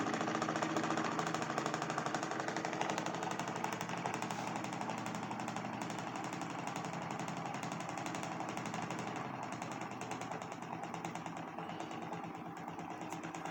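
A BLHF-RM synchronous electric motor runs at 1 amp with a continuous mechanical hum and a fast, even rhythmic buzz, steady throughout and fairly quiet.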